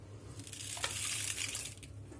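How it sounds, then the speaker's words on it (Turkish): Rock salt pours into a plastic jug of tomato pickle with garlic, a close, steady granular hiss and faint crackle that swells in the middle and then tapers, with no talking. "Şimdi tuzunu döküyorum"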